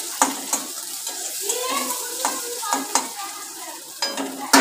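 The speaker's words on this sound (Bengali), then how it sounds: "ডিমের বড়া ভাজলাম" Egg fritters fry in a pan with a steady sizzle, broken by several sharp scraping clicks of a spatula stirring and turning them, close and fairly loud with no voices.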